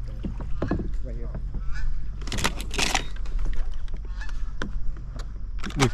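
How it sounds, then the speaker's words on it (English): Geese honk over a river during an early-season goose hunt, repeated calls near and far mixed with clunks and splashes from a boat. "I hear geese."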